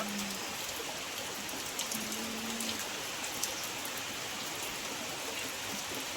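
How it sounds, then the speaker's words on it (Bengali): Heavy rain falls steadily outside as a dense, even hiss of drops on surfaces, continuous for the whole stretch with no talking. "বাইরে প্রচুর বৃষ্টি হচ্ছে"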